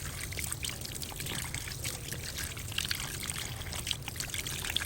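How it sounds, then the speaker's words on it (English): Tap water runs steadily while carrots and mushrooms are rinsed clean of dirt, a continuous close pouring trickle with faint splashes and no talk. "I wash all the carrots and I wash the mushrooms too."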